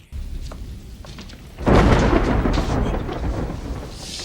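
Thunder in a horror TV episode: a low rumble builds into a loud, sustained crash and roll under falling rain, with no talk.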